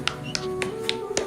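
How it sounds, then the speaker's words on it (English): Slow hand claps from one man, applauding after a fruit is pierced mid-air: five sharp, evenly spaced claps close by, with a steady tonal hum running underneath. "Judah laughs as he begins to slowly clap his hands in applause"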